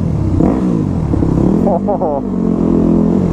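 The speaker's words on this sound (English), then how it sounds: "Oh, you can hear the tunnel exhaust now." Motorcycle with a tunnel exhaust revving on a freeway, a loud, continuous engine drone with a couple of rising revs in the middle, heard up close with a brief spoken exclamation and wind noise.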